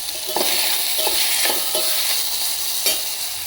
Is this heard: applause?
no